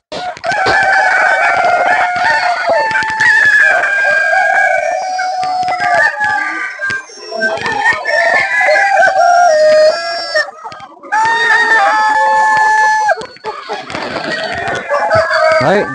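On a chicken farm in Chí Linh, Hải Dương, raising birds for Tết, hens cluck continuously and roosters crow loudly in long repeated calls, a dense flock chorus that carries on for the whole stretch with only brief lulls.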